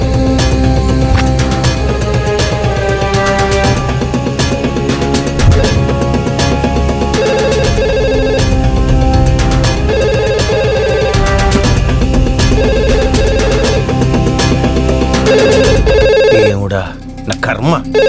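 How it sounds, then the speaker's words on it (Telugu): A telephone rings nearby in a room, its repeated bell running continuously under loud background music with voices in a dubbed film scene. "అవును, ఇక్కడే ఇక్కడ పక్కన రింగ్ అవుతుంది."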